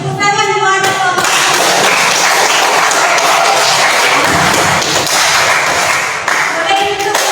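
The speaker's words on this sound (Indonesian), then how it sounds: "Tepuk tangan buat kelompok." A group in a classroom or presentation setting is applauded, with a burst of clapping that carries on for several seconds, loud and close. A voice is heard briefly at the very start.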